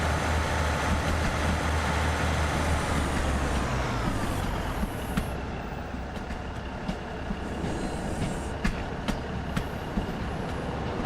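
Older electric multiple-unit train in Train Sim World 6, heard from inside the cab on the West Coast Main Line: a steady rumbling motor drone with rolling wheel noise, rising whine and occasional clicks of rail joints throughout.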